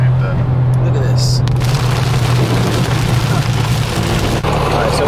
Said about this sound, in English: it's fucking raining cats and dogs right now